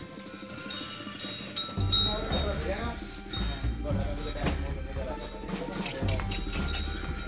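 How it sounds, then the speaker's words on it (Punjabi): A bullock-drawn seed drill works a field in rural Punjab. Bells clink irregularly and hooves thud softly against a busy outdoor background, with voices present throughout. "ਇਹ ਡਰਿੱਲ ਆ ਜੀ ਬੋਲਦਾਂ ਵਾਲੀ।"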